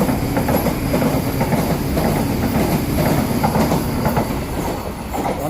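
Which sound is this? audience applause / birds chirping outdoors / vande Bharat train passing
vande Bharat train passing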